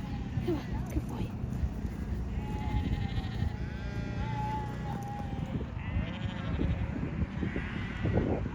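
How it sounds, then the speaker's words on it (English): Texel cross lambs bleat repeatedly during sheep shedding on a farm, several drawn-out calls rising over a steady background of shuffling livestock and farmyard noise, with a person speaking faintly at times. "Sheep shedding again, and Polly's always the last."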